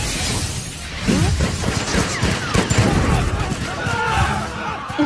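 Rapid bursts of anime gunfire crackle against paper amid a dense, noisy mix of crashing and shattering sounds, loud and close throughout.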